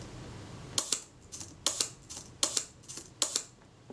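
A Kodak Retina I type 126 shutter fires repeatedly during servicing, giving sharp, close mechanical clicks in pairs at a steady rhythm, each a quick snap followed by a softer second click, alone in a quiet room.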